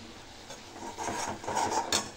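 Masala spices being stirred and fried in oil in a pan for a jackfruit curry, with soft scraping and clinking of a spoon against the pan, intermittent and fairly quiet, no talking.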